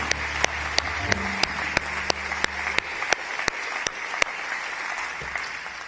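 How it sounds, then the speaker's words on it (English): Audience applause continues for a book award winner at a New Zealand literary awards ceremony, a steady wash of clapping with a low hum underneath and sharp regular ticks punctuating it. "Keep the applause going e te whānau."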